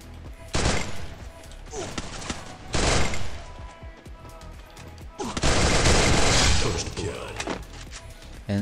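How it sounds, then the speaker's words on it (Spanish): Loud bursts of gunshots in the battle royale game Free Fire, arriving in three separate volleys with short gaps between them and a voice speaking briefly. "¡Ay! ¡Me dispara!"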